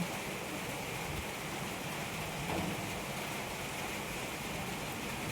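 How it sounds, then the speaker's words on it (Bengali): Steady, even hiss of rain falling continuously, soft and fairly distant, with no voices or other sounds breaking through. "সকাল থেকেই বৃষ্টি, কিরম বৃষ্টি, একবার হচ্ছে একবার বন্ধ হচ্ছে।"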